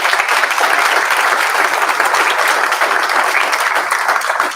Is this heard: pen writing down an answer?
no